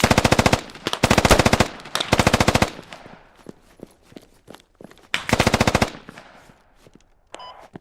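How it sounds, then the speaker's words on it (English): Machine-gun bursts during a live-fire drill: several rapid, loud strings of shots, spaced apart, with sharp single cracks and quieter echoing reports between them. "Just MG fired left or south"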